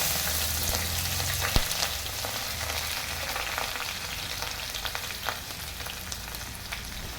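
Curry leaves and onion fry in a hot pan over garlic-ginger paste, a steady dense sizzle and crackle running the whole time with a sharp pop or spatter near the start and no voices.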